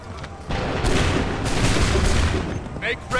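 A volley of muskets fired on command in Assassin's Creed III, a dense burst of gunfire crackling loudly for a few seconds, with shouted orders mixed in.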